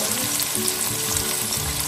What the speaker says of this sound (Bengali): হালকা অ্যাভোকাডো অয়েলে দেখতে পাচ্ছ এপিট ওপিট দারুণ ভাজা হয়ে গেছে